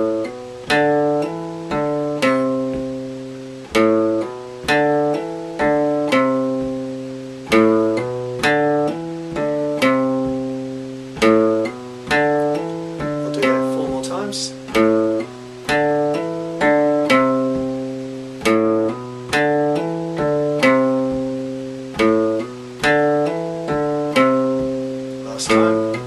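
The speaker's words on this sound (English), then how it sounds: "So we'll go through four times going hammer on, pull off, and pick." Slow guitar practice exercise of hammer-ons, pull-offs and picked notes, played four times through as a steady run of plucked notes with regular accents, close and clear with no talking.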